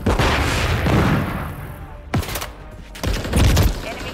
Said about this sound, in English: Grenade! Flash out!